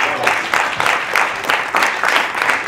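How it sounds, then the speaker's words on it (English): An audience at a debating event gives a round of applause for the Nanterre representative, many hands clapping in a dense, pulsing burst that stays loud and close throughout. "let's give her a round of applause"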